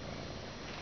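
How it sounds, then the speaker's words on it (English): A cuddly, vocal young male cat purrs softly in a short, low, steady rumble heard close up and faint, with no talking over it. "I hear you purring. You're purring too loud."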